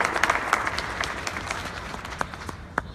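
An audience gives a round of applause at a community presentation, a thin scattering of claps with individual sharp hits standing out over a soft, fading wash.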